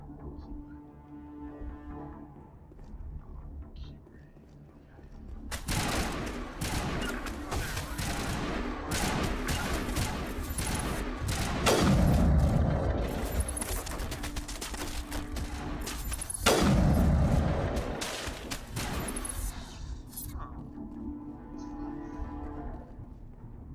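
Weapon fire in Mass Effect Legendary Edition, a loud, sustained clatter of shots with heavy booming bursts that rises over a low droning game soundtrack, then fades back to the quieter backdrop.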